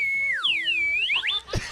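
A whistle blown in a studio gives a shrill, wavering tone that swoops down and back up over about a second and a half, then cuts off with a short thump.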